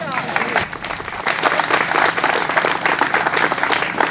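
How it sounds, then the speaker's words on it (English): Guests at a historical marker dedication ceremony for Duane Eddy clap for Dee, the applause swelling after a brief start with a voice and holding as a close, lively crowd clapping with some chatter. "Let's clap for Dee again."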